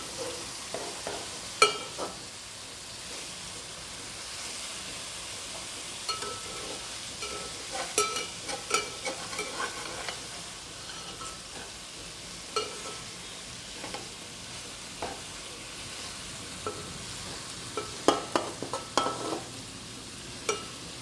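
A large fish cooks slowly in a pan over a low flame, making a soft steady sizzle with scattered faint pops and stirring clinks, quiet and close, with no voices.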